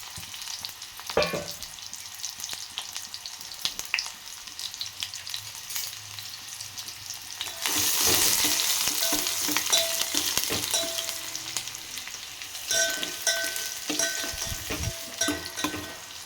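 Green chillies, cumin and garlic frying in hot oil along with onion pieces, a steady close sizzle that swells louder midway with occasional stirring clinks and scrapes, no talk.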